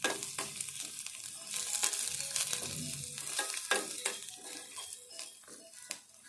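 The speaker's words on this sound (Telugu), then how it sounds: "ఉల్లిపాయ ఇవన్నీ ఇట్లా వేగినాక ఈ చింతపండు సూపు పోసుకోవాలి" Onions and chili powder fry in a pan for a tamarind-soup curry, giving a steady close sizzle. Frequent scrapes and clinks from a stirring spoon striking the pan cut through it.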